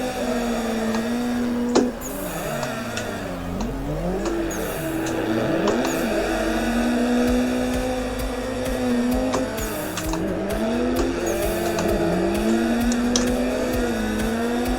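A drift car's engine in the Assetto Corsa video game, droning and rising and falling in pitch as gears change, steady and close throughout with a sharp click near the start.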